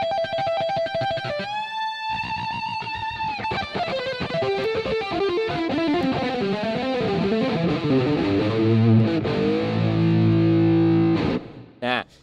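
Distorted electric guitar from the Shreddage 3 Jupiter virtual instrument plays alone, starting with a few sustained overdriven notes, then a busy melodic run that settles into ringing held chords.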